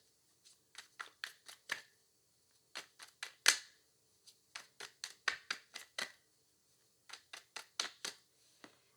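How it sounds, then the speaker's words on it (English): A deck of tarot cards is shuffled by hand in close, crisp bursts of riffling and slapping, grouped in short runs separated by brief pauses. "when I was shuffling the cards, when I had picked the deck up"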